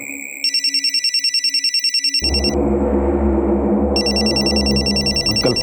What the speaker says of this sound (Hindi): हाँ मेरा फोन बज रहा है।